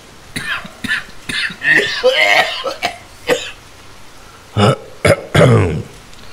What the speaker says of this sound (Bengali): বার দুয়েক কেশে গলা ঝেড়ে নিয়ে বললেন